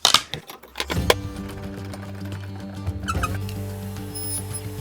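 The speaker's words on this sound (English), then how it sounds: "So I'm going to get my miter sled and accomplish these notches with that." A table saw with its blade set to a half-inch height and tilted to a 4-degree bevel spins up and cuts notches with a miter sled against a stop block. A loud steady motor whine and tonal hum follow brief clatter, with a second cut near the end.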